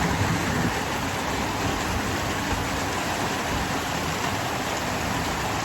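Heavy rain pours down steadily in a dense, continuous hiss, close and loud, with no voices.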